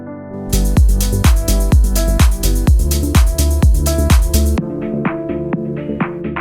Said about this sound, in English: Now let's check out this piano ARP sound